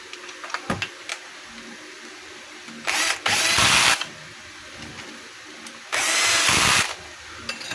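A power drill drives a screw into a DeWalt jackhammer, with two separate roughly one-second whirring bursts between quiet gaps and small handling clicks.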